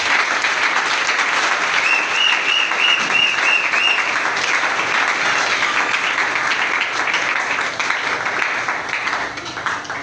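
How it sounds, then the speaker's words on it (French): A church congregation claps and cheers in praise of the Lord Jesus, loud sustained applause filling the room for the full stretch, with a few whistles and shouts mixed in before it slowly thins at the end. "Est-ce que tu peux acclamer pour le Seigneur Jésus?"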